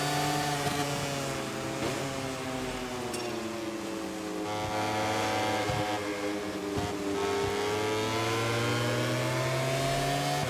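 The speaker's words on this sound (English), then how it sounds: "You can hear their engines roaring behind us." Racing motorcycle engines from the MotoGP 24 video game at Mugello roar continuously, with several harmonic engine tones rising and falling as bikes chase closely behind, loud and steady throughout with no talk.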